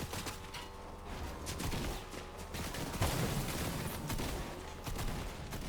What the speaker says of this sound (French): ça tire vers la tour les gars